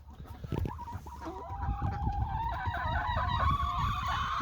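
A hen clucks on a family farm while sitting over at least one egg, giving soft, irregular clucks and murmurs. Continuous rustling and handling noise close by sit underneath.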